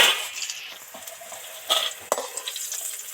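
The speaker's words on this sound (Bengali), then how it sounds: "এবার নেড়ে চেড়ে ভালো করে উচ্ছে ভাজাটা তো কমপ্লিট করে ফেললাম" A spoon scrapes and clinks in a pan of deep-fried bitter gourd over soft frying sizzle, with a few sharper metallic taps near the end.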